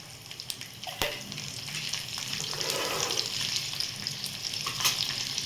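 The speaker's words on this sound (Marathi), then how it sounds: "आता मी यामध्ये टाकून घेणार आहे जिरे, थोडीशी मोहरी आणि थोडासा लसूण." Cumin, mustard seeds and garlic frying in a little oil, a bright close sizzle that swells after a sharp clatter as they drop in, with faint crackles and a stir toward the end.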